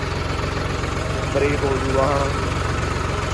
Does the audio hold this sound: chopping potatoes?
no